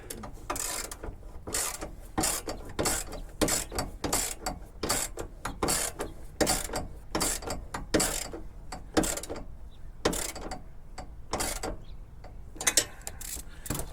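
A ratchet snugs a bolt on a skid plate under a Mark IV truck, giving a long run of quick, regular clicking strokes close up with faint workshop noise between them and no talk.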